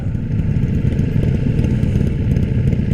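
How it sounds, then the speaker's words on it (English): A Harley motorcycle engine rumbles on a road ride near Brighton, a loud, continuous, throbbing low drone that stays steady with no talk over it. "Nice Harley in front of me."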